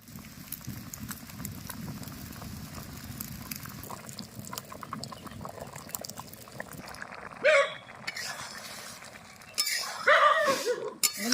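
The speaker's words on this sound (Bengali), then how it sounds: "এবার ঢাকনা দিয়ে উনুন জ্বালিয়ে কড়া বসিয়ে দেবো" A lid clinks onto a pot of masoor dal, then a wok is set down on the stove. The two short metallic knocks stand out over a steady low background hum.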